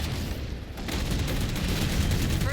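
Dense gunfire rattles through a Halo Infinite battle as jammers are shot down, a continuous loud barrage of shots and booms with no pauses.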